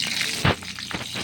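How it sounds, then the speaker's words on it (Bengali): Bay leaf and dried red chillies hit hot mustard oil for a Bengali mankochu ghonto, producing a brief, loud crackling burst over a continuous bright sizzle, with no talk. "এখন দিয়ে দেবো আমি সরষের তেল, না দেব তেজপাতা, শুকনো লঙ্কা,"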